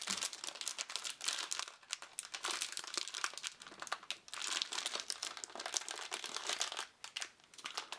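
The plastic bag of a 2015 Block Tech Metro Squad Patrol Car toy block set from RMS International crinkles and crackles continuously in close, busy bursts, with no voices over it.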